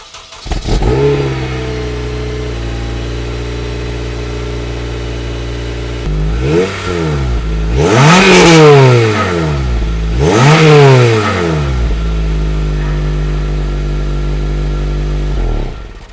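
An unmodified Honda K20 engine in a Honda Civic EP3 Type R idles steadily, then revs hard three times in quick bursts, each rising and falling, before settling back to a rough idle.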